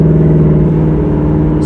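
A 2019 Mustang GT with a Borla S-Type exhaust idles in normal mode, giving a loud, steady low rumble with a strong even drone that holds throughout.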